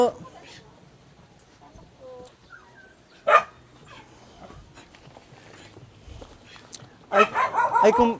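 A dog barks outdoors near a family home, a sharp single bark followed later by a louder burst of rapid barking, with quieter yelps in between and voices nearby.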